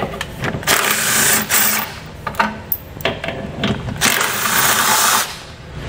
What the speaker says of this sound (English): We'll use a 17 millimeter socket to remove these 2 bolts.